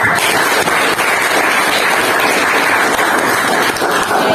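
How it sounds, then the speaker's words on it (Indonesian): Applause in a classroom, a loud, dense and unbroken hiss of many hands clapping together, steady from start to finish with no individual claps standing out. "Boleh tepuk tangan untuk"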